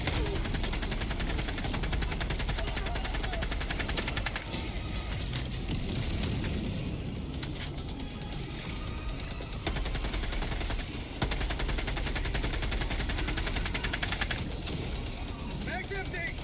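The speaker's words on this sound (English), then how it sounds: "now we can call down a machine gun sentry" Machine gun sentry firing in a shooter video game, continuous rattling automatic fire that runs nearly the whole time beneath a voice and other battle noise.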